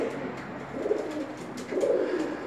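Pigeons cooing close by, two soft, throaty rolling coos in quick succession against a quiet loft background, with no talking.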